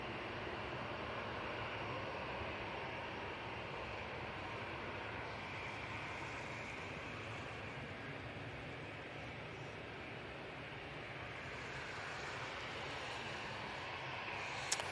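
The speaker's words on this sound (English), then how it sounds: "A320neo about to touch down." SAS Airbus A320neo airliner arriving from Stockholm, about to touch down: a steady, even broadband engine roar holds throughout at moderate, somewhat distant level, with no distinct peaks.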